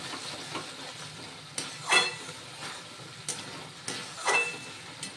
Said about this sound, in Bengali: এবার মশলা খুব ভালো করে কষিয়ে নেব যতক্ষণ পর্যন্ত না মশলা থেকে তেল ছেড়ে বেরিয়ে আসে